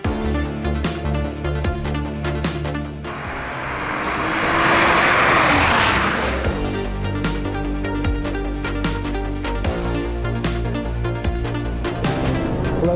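A Ferrari Testarossa engine drones steadily while driving, swelling into a louder roaring rush midway before settling back to a rhythmic hum.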